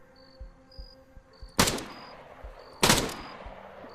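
Two loud, sharp gunshot bursts from a 7.62 Zafir machine gun in the ArmA 3 video game, spaced about a second apart, with faint clicks and a thin high tone between them.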